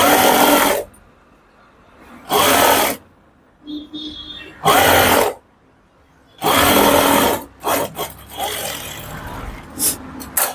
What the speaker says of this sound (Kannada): ಈಗ 2 ಪೀಸ್ನ ಇದ್ರ ಮೇಲಿಟ್ಟು ಇನ್ನೊಂದು ಸ್ಟಿಚ್ ಹಾಕೊಳ್ಳಿ